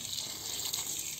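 Water from a farm well gushes out in a steady, continuous rush of broadband splashing, close and fairly loud, with no voices.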